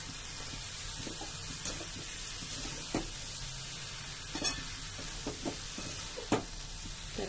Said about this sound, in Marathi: तर व्यवस्थित मिक्स करूया.